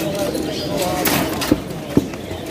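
Pigeons coo at a busy pigeon market in Mirpur, Bangladesh, with a couple of short, sharp calls rising above a murmur of crowd noise and people talking nearby.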